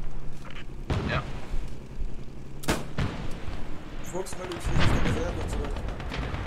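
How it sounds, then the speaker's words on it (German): Artillery fire in Post Scriptum, a Western Front battle game: heavy blasts and booms land around 1 s, 2.7 s and near 4.7 s, with gunfire crackle throughout, and someone shouts a warning over the barrage. "Achtung, Artillerie!"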